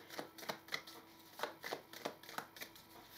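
Tarot cards are shuffled and drawn close up, giving a quick run of crisp flicking slaps in an uneven rhythm, fairly quiet and with no voices.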